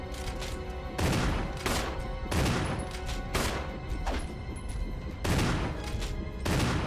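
Rapid bursts of loud gunfire come from Resident Evil HD, with several clusters of shots and short gaps between them. The shots are close and echoing, and no voices can be heard.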